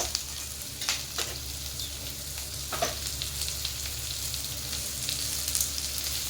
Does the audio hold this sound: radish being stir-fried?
yes